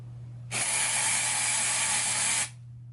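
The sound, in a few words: aerosol spray bottle spraying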